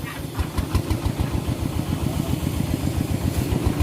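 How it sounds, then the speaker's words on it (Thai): A small engine for water well drilling chugs close by in a fast, steady putter, loud and regular without talk. "ตอนนี้ผม่ก็ติดจักแล้วพี่น้องติดเครื่องนะเนาะ"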